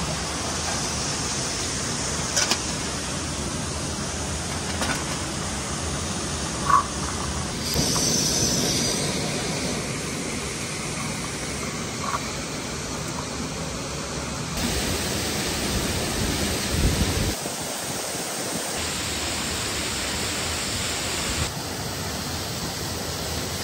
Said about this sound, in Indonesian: Kita sudah berada di air terjun Yami